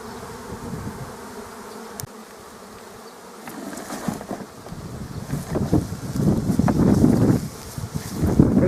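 A swarm of honey bees near an apiary, buzzing steadily at first and growing louder and denser as the swarm is disturbed, with some wind noise.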